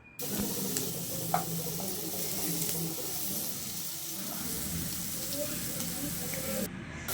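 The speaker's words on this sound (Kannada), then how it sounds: "ಒಂದು ಅರ್ಧ ಈರುಳ್ಳಿನ ಈ ರೀತಿ ಸಣ್ಣದಾಗಿ ಕಟ್ ಮಾಡಿಕೊಂಡು ಅದನ್ನು ಕೂಡ ಸೇರಿಸ್ಕೊಂಡು ಫ್ರೈ ಮಾಡ್ಕೋಬೇಕು" Chopped onion frying in a pan with turmeric and coriander powder for a paneer gravy, giving a steady, moderately loud sizzle that runs unbroken through the clip with a few faint clinks and no talk.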